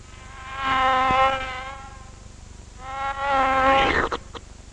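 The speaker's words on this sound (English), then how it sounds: "the bed swallows a fly buzzing around in the room" A fly buzzing around a room in a horror film, two drawn-out whining buzz passes close by with a short tapering tail at the end and no voices.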